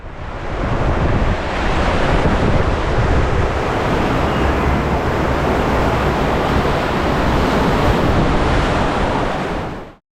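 Water rushes and churns around a rapids boat ride at SeaWorld San Diego, a loud, continuous roar of choppy waves mixed with wind buffeting the microphone for about ten seconds, with no voices.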